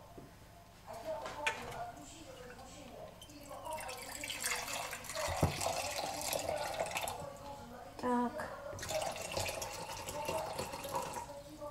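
Very hot water from a just-boiled kettle pours and splashes into a measuring cup in a kitchen while making Armenian matnakash bread dough; a soft, irregular liquid trickle with light drips, and someone speaks briefly.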